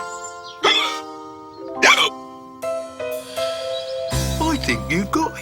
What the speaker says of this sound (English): I think you've got hiccups